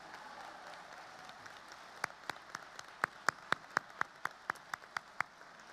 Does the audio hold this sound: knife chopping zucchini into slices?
no